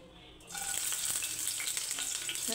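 Chili dropped into hot oil bursts into a loud, steady sizzle that starts abruptly and continues, close and alone.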